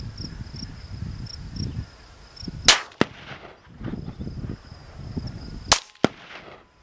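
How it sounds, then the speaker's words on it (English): Bullets at an outdoor shooting range, two sharp distant cracks a few seconds apart, each followed by a brief fading tail, over a steady bed of chirping insects. "Maybe a couple ricochets past it."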